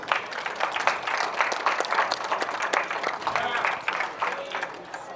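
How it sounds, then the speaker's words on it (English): An audience at a cricket league fundraiser applauds organizers and players, with scattered, moderately loud claps mixed with crowd noise and ongoing talk. "I want you to give a round of applause to the organizers and to the"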